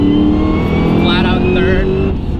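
A 1000 hp manual Cadillac CTS-V in competition mode pulls hard under throttle, its engine droning loud and rising in pitch from close inside the cabin.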